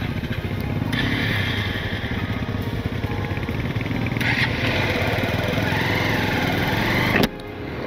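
Motorcycle being ridden on a road beside a canal near Haridwar, a steady close engine drone with wind noise and slight revving that runs throughout before easing at the end.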